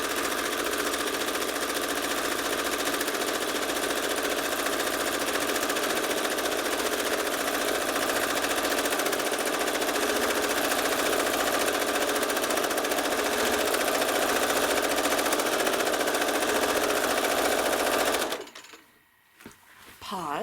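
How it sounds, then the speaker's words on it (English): A home sewing machine quilting free-motion stitches on a Tuscan Vintage quilt runs loud and steady nearly throughout, stopping abruptly near the end. "Now I'm going to stitch my way back."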